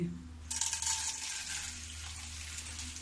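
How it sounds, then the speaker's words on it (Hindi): Edible gum (gond) hits hot ghee in a kitchen pan and bursts into a steady, bright sizzle that starts abruptly and continues evenly, close and moderately loud, after a few faint clinks. "इसको मैं थोड़ी थोड़ी घी में छानूंगी"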